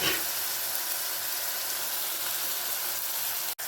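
Tomatoes softening in a hot pan for chicken gravy give a steady, even sizzle with a broad hiss, unbroken for several seconds apart from one brief dropout near the end; no one speaks.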